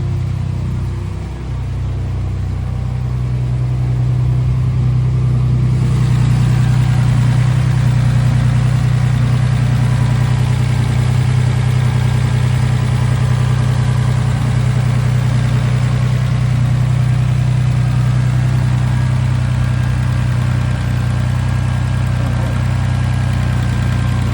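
The LT4 engine of a ZL1 Camaro with a damaged supercharger belt settles into a steady, close, deep idle after starting, a constant low rumble held for the full stretch with no talk.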